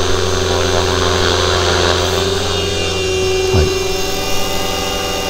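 A Forza H1 radio-controlled helicopter's rotor and motor whine steadily and loudly, holding a strong constant pitch with a brief swooping dip partway through, close by and with no voices.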